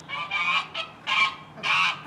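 An old goose in a backyard honks loudly and close by, giving four harsh nasal calls in quick, uneven succession, with nothing else heard.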